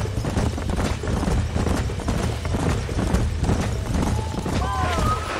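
Horse hooves clip-clop steadily and rapidly on the ground in the Red Dead Redemption video game, a dense rhythmic patter that runs throughout at close range, with brief whistling tones near the end.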